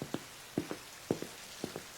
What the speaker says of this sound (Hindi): अमित बड़ी उम्मीद से बारिश में बचते बचाते मटन करी वाले के पास जाता है